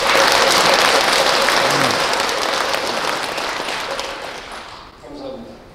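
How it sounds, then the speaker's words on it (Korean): Loud, warm applause fills the hall at a Taego Order Buddhist inauguration ceremony for a new district administration, sustained clapping from a large crowd that fades toward the end as a voice begins to speak. "신임집행부에게 뜨거운 격려의 박수 보내시기 바랍니다."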